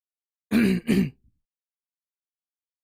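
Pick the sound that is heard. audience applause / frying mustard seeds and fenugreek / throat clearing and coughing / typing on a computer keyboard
throat clearing and coughing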